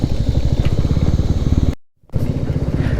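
A motorcycle rumbles steadily along a rough, dusty off-road mountain track in Uttarakhand, engine loud and close with a throbbing beat, cutting out briefly before resuming.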